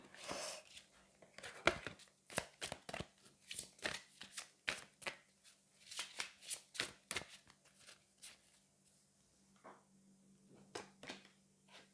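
Angel oracle cards are shuffled by hand in a steady run of crisp riffling slaps and flutters, close and fairly quiet, with brief pauses between bursts.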